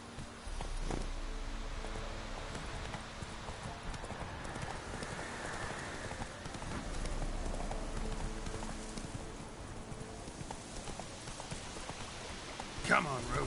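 Roach, the horse in The Witcher 3 video game, galloping: steady, rhythmic hoofbeats carry on throughout at a moderate distance over faint rain-like patter, with a voice speaking occasionally.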